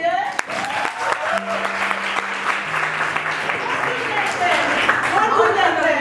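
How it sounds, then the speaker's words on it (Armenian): Audience applause at a school last-bell graduation ceremony, a dense sustained clapping that carries on for several seconds, with voices and a tonal sound faintly underneath. "Չեմ լսում ձեր ծափերը"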